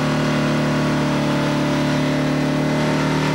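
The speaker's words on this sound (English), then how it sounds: "Jan seems to be having a problem with his Massey Ferguson. He's huffing, he's puffing, and he's getting nowhere fast." A Massey Ferguson pulling tractor strains at a 1995 European tractor pull in Herning, Denmark, its engine a loud, steady, close drone that holds without a break for the whole stretch.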